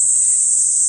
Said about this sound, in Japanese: セミの鳴き声を聞いてください。